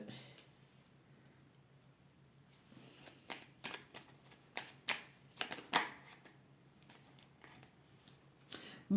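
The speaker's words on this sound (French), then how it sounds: "Je tire les cartes d'abord." Tarot cards being shuffled and drawn by hand, a quiet patter of soft riffles and flicks that grows into a run of sharper card snaps and slaps, close by with a low steady hum underneath.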